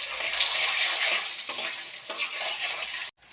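Dried red chillies, bay leaves and five-spice seeds crackle and sizzle loudly in hot oil, a dense frying hiss punctuated by stirring scrapes, ending in a sudden cut to silence.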